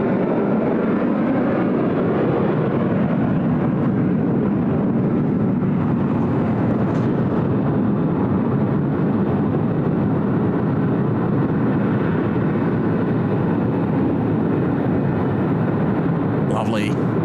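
A Qantas jet departing Sydney Airport on the Noumea service roars steadily as a broad, sustained rumble throughout, with a voice talking over it.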